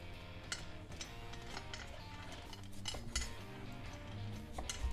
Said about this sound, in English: And now we cut in these big cubes.